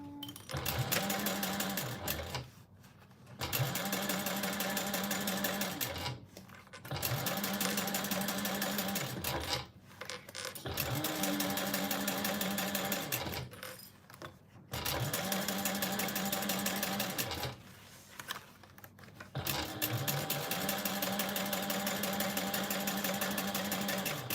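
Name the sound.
sewing machine stitching a Rosie sling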